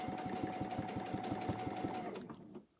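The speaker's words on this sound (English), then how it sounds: "going to freehand stitch right on the inside of this clamshell" A sewing machine free-motion stitches inside a quilted clamshell, running in a fast, even clatter of needle strokes up close before stopping abruptly.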